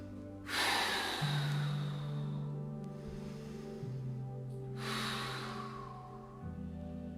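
Heavy breathing during a Pilates exercise: two long, forceful exhalations a few seconds apart, heard close over a low, steady hum.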